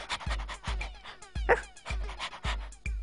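A dog whimpering and panting in short repeated bursts, close and fairly quiet, with no talk over it.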